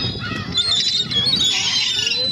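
Gulls, which Japanese calls umineko or sea cat, crying and squealing continuously in a dense, loud chorus of overlapping high-pitched calls, with no talk.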